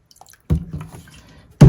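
Rubbing alcohol poured into a small container for soaking a leather or vinyl repair tool, giving short wet splashes and gurgles close by, with a brief pause between pours and no speech.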